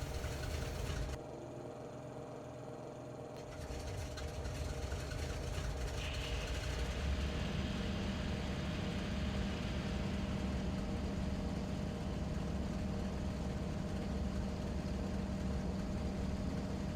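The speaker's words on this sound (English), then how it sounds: "The engines are running" In the Prepar3D flight simulator, vintage aircraft engines run at a steady low idle, a continuous faint drone with a slight rise in pitch partway through, and there is no talk.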